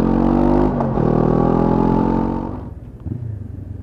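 A Honda CB500X adventure motorcycle rides along a normal road, its engine droning steadily and loud up close, then the note drops and fades as the throttle eases off near the end.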